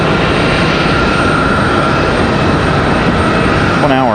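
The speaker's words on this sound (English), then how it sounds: "Next arrival is Republic Airways 4749 coming in from LaGuardia" A Republic Airways Embraer E175 regional jet arrives from LaGuardia, its steady broadband engine roar loud and continuous throughout, with a faint rising whine near the end.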